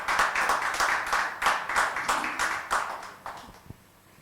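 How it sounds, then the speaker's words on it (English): Scattered clapping from a festival audience opening a sports leadership session at a literature and art festival, in uneven bursts that thin out and fade toward the end. "Can we start the session with a huge round of applause?"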